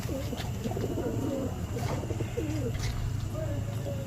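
Racing pigeons at a tournament coo in soft, repeated throaty phrases close by, over a steady low background rumble.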